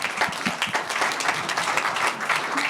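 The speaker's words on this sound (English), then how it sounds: "we need a round of applause for the folks of Archibald and all the hard work they've been doing" Audience applause for a community group at a public meeting on data centers in Pennsylvania, a dense, steady wash of many hands clapping throughout, close and loud with no speech over it.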